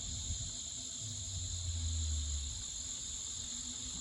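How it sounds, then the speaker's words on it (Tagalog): Steady, high-pitched cricket chirping drones continuously at night, a faint low hum briefly rising underneath. "kuliglig tonight mga huni ng kuliglig"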